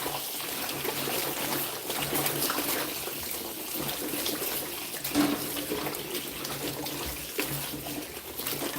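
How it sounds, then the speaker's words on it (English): Tap water runs steadily while vegetables are washed under the flow for a detox juice, a continuous close splashing hiss filling the whole stretch with no talking. "when I'm washing, I like to have the water flow over"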